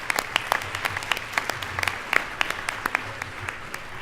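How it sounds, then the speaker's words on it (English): A small audience at an Oregon legislative hearing claps for a prison superintendent, with sparse, uneven individual claps standing out over a soft hiss, moderately loud and steady for the whole span. "I'd like to give her a round of applause"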